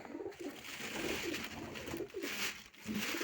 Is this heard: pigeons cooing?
yes